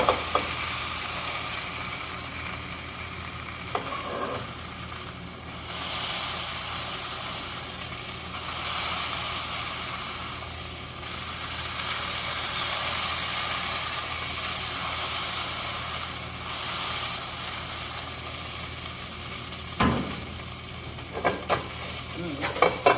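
A maitake mushroom sizzles and steams in a hot pan in a continuous hiss, with occasional stirring scrapes and faint clicks, steady and close with no talking.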